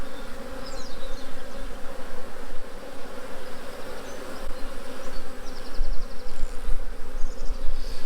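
Honeybees buzzing densely at an open hive box during a first inspection of a new swarm in a mini-plus hive, a close, continuous hum with no one speaking.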